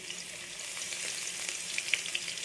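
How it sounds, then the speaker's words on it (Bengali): Chopped onion dropped into hot oil in a pan makes a continuous bright sizzle, close and fairly soft, with a few sharp pops toward the end. "এখানে আমি পেঁয়াজ কুচিগুলো দিয়ে দিলাম পেঁয়াজটাকে এবার একটু আমি ভাজতে দেবো"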